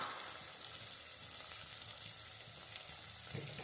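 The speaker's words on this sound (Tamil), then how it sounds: "இப்போ இந்த எண்ணெயிலே நம்ம வதக்கிக்கலாம்" Steady hiss and crackle of tomatoes and vegetables sautéing in hot oil, continuous and close, with faint stirring clicks and no talking.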